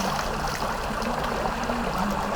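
River water flowing steadily, a close, continuous rushing and trickling with no voices.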